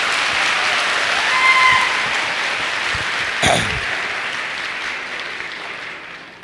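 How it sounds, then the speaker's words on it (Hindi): A loud burst of applause from an audience at a business training seminar, steady dense clapping that swells then slowly tapers off. "तो आपका जुनून एक बार जोरदार तालियों से देखना जरूर चाहूंगा आपके लिए।"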